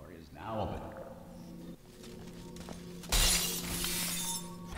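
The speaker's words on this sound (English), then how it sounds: "I just smashed the window with the camera." In the video game Portal 2, window glass is smashed with a camera, a sudden loud crash and shatter that rings on, following speech and game sounds.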